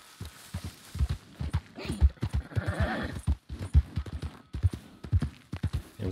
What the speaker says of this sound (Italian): Cavallo.